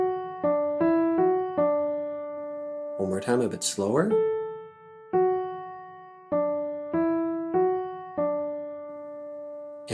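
A slow ear-test melody in a major pentascale, sol mi do re mi do, played as clear sustained single tones with a spoken voice cutting in midway.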